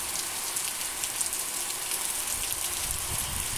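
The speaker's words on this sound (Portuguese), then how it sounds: "Muita chuva." Heavy rain pours steadily onto a residential street, with a constant dense hiss of drops hitting the ground and runoff water flowing alongside, close and continuous with no voices.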